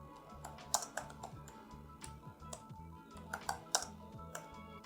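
Quick bursts of keystrokes on a computer keyboard, uneven clicks at close range as a name is typed, with short pauses between runs and no voices.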